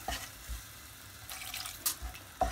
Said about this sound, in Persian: توی این مرحله من یه مقدار کم آب بهش اضافه میکنم